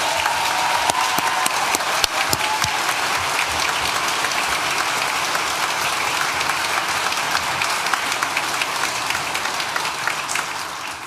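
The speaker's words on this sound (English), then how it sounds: "So I'd like to have another round of applause, please." A large audience at a university graduation ceremony for a school of social sciences claps in a sustained, even round of applause that continues steadily throughout.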